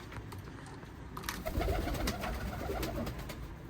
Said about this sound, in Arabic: هنا كلها طيره وفحل شباب، كلها طيره وفحل.